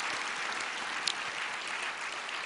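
A church audience applauds to close a lecture series on the Book of Revelation; soft, distant, even clapping continues without pause and without speech.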